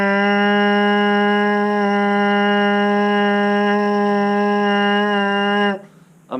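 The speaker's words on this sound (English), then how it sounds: "Here's a really, really good buzz." Sustained, vibrant lip buzz into a trombone mouthpiece, loud and even for nearly six seconds, then stopping sharply with a brief breath after.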